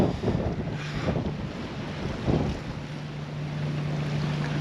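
A sailboat under sail with its engines shut off, heading back to an anchorage: wind buffets the microphone over a wash of water and waves, with a faint steady hum underneath.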